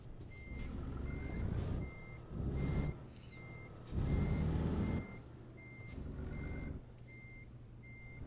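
Reversing beeps from a truck in the driving game Euro Truck Simulator 2, a regular series of evenly spaced electronic beeps over a rumbling engine that swells and eases, with no talk.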